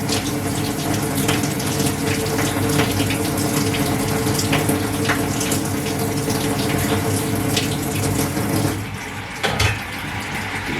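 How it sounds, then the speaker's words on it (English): Sunflower seeds for microgreens are rinsed under a running tap. A loud, steady gush of water flows without a break and dips briefly near the end. "Give it a nice soak, get it rinsed really, really well."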